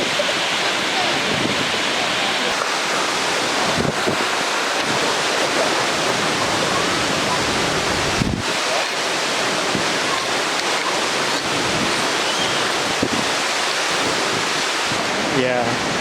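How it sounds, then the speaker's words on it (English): Taughannock Falls, a 215-foot waterfall in a rock cavern, roars as a loud, unbroken broadband rush, with brief bumps of handling noise and faint voices beneath it. "Yeah, that waterfall"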